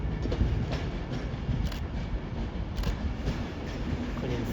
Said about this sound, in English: here is an Avanti West Coast Pendolino. First one we're going to catch moving today